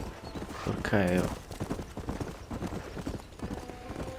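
Horse hooves clip-clop in a steady trotting rhythm in the Western video game Red Dead Redemption from 2010, with a brief whinny early on and someone talking over the hoofbeats.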